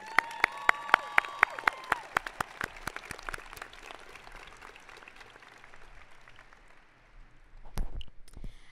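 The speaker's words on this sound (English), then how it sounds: "Please give a round of applause to our faculty." Graduation ceremony audience applauds the faculty, sharp distinct claps at first and then a dense, steady wash of clapping that slowly fades, with a brief louder burst near the end.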